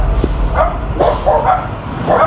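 A dog near a cottage rental gives a few short, yappy barks and whimpery yips in an uneven rhythm, close and fairly loud against faint background noise.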